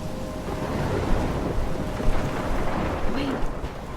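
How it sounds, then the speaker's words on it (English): A thunderstorm in the video game Life is Strange rumbles with a low, constant roar of wind and rain, with soft thunder swells rising now and then. "I'm trapped in a storm?"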